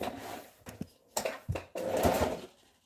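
Domestic sewing machine stitching fabric for a gathered skirt, heard as several short whirring bursts that build into one longer continuous run, close and fairly loud, with no talking.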